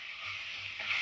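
Ginger garlic paste sautéing in a pan over a low flame, a soft continuous sizzle with light stirring, fairly quiet and close, no voices.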